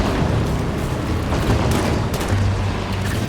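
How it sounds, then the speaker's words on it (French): A Phaeton fires on the player in the Halo 5: Guardians campaign, loud rumbling explosions and rapid gunfire bursts layered over a constant low boom, dense and close throughout. "Le Phaéton me tire dessus."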